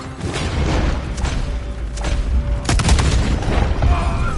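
Gunfire during a Red Dead Redemption 2 shootout, repeated booming shots and cracks over a rumbling background, loud and close, with a few sharp clustered blasts late on.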